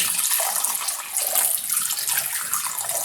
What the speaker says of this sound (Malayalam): അതിലേക്ക് അത് ഉരുകാൻ വേണ്ടി വെള്ളം ഒഴിക്കുകയാണ്.